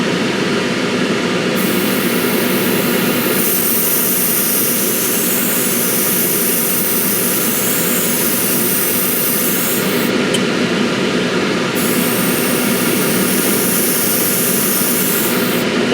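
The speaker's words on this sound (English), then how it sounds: "That's one layer of that stuff with that nice, lovely smell of hairspray" Hairspray is sprayed as a chipping layer onto a model in long, continuous hissing bursts close to the microphone, with brief pauses between passes.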